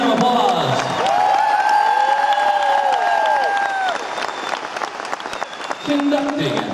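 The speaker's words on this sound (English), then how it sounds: "please give your own strings a huge round of applause" A large concert crowd applauds and cheers for an orchestra's string section at a show, loud dense clapping with whoops, while a voice over the sound system rings through the first half.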